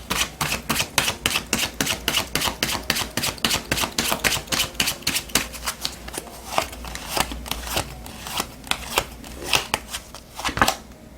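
Oracle cards for a tarot reading are shuffled in a quick, steady run of crisp riffling snaps, close and loud, slowing into looser irregular flicks toward the end.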